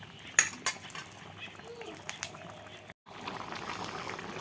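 Rohu fish curry boils in a pan, a soft steady bubbling with a few sharp metallic clinks of a utensil against the pan early on, then continuous simmering.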